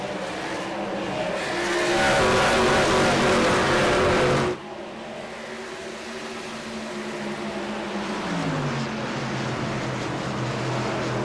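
Race cars roaring around Darlington in a sim racing game, a loud engine surge that cuts off abruptly, then several cars droning and shifting pitch as they pass through the corners.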